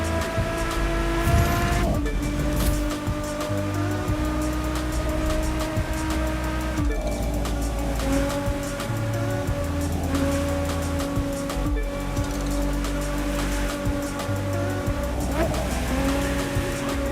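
A racing car in The Crew 2 roars steadily around a track, its engine loud and continuous with repeated tire squeals and gear changes throughout.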